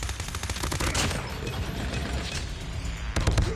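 Rapid bursts of gunfire from a PDW-57 in the Call of Duty Mobile video game, loud and close, with dense rattling volleys and a short pause before another burst.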